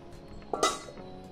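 A metal lid set onto a pot of simmering mutton keema kofta gravy, giving two quick clinks close by, one soft and one brighter, against a quiet kitchen background.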